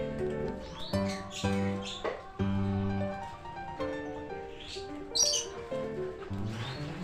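A cockatiel chirps and whistles in short, bright calls over a melodic background tune, the calls scattered irregularly and fairly close.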